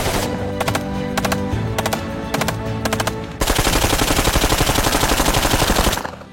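Rapid bursts of automatic gunfire at a weapons firing range, first in short repeated strings, then one long continuous stream, loud and close.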